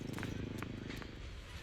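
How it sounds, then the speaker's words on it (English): A cat purrs close by in Zenless Zone Zero, a low rumbling, pulsing purr that runs steadily throughout, with faint brief clicks above it. "I hear you purring."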